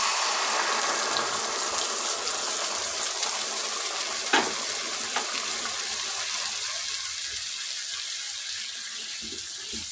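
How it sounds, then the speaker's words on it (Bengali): A prepared spice paste hits masala frying in a pan over very low heat, raising a dense, continuous hiss that stays broad and even, with one brief knock midway and no voices. "এখন যে পেস্টটা আমি বানিয়ে রেখেছি ওটা দিয়ে দিচ্ছি"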